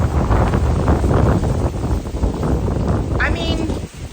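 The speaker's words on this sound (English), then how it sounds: "Woo, oh, we're windy." Strong gusts from tropical storm Debby buffet the microphone, a loud, continuous roar with a person exclaiming over it.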